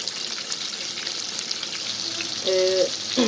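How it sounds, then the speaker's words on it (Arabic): Meat strips for homemade strips sizzle steadily in a hot pan, a constant close frying hiss with a brief tonal beep near the end. "ودلوقتي دي اتحمرت اهيت على الناحيه التانيه، وقلبتها."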